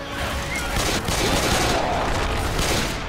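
Sustained, dense gunfire from weapons in the zombie shooter Left 4 Dead 2, rapid overlapping shots forming a continuous loud volley with no pauses, during a fight against a tank.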